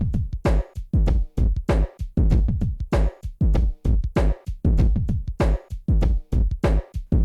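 A punchy, steady sampled drum loop with hard kicks and crisp snares repeating in a tight hip hop groove, played alone without any voices.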